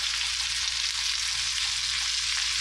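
Steak and onions sizzling in a frying pan, a steady dense hiss that runs continuously and fairly loud without pauses.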